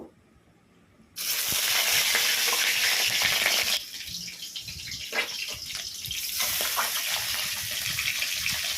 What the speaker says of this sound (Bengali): একটু ভালো করে মুড়োগুলো উল্টে পাল্টে ভেজে নিতে হবে।